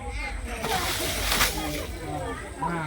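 Water poured over people during a ritual bath at a mangala snanam ceremony gives a sloshing, splashing wash of sound, fairly close and continuous, while people talk around it.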